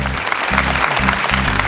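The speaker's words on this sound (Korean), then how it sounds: "선생님께 박수 한번 보내드리죠." Student audience at a youth talk concert on Korean unification applauds the teacher, a loud burst of clapping riding over a pulsing low musical beat, continuous and dense through the short moment.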